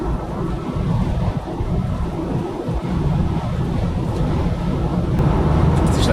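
Thunderstorm ahead of a car driving west on Interstate 75 toward Naples, Florida: a steady broadband roar of rain, wind and road noise with low rumbling beneath, loud and continuous throughout.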